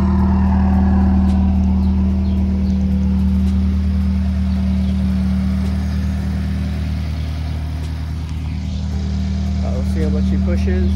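A Subaru WRX engine drones steadily while driving on the road, a loud, constant low rumble with little change in pitch throughout.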